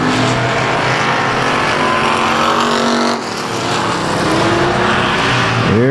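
Stock race cars roar past on an oval at South Texas Speedway, a loud continuous engine drone with the pitch dropping as cars go by and a new car sweeping in near the end.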